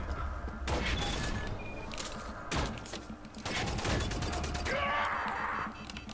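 Gunfire in the Wolfenstein: The New Order shooter, set in space, with repeated sharp bursts of automatic fire separated by short gaps and mechanical clanks and creaks, fairly close and loud.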